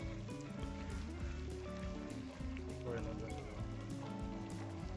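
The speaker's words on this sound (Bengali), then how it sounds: "এই মশলার সাথে আমরা চিকেনটাকে ভালো করে ফ্রাই করে নেব" Chicken fries with spices in a pan for Bengali doi chicken, giving off a steady hiss and sizzle like light rain beneath a person's continuous talking.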